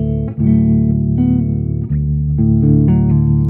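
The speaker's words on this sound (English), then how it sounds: "You attack the low three strings, make a hammer-on pull-off." An electric blues guitar phrase of quick legato hammer-ons and pull-offs on the low three strings, repeating over sustained low strings, close and fairly loud.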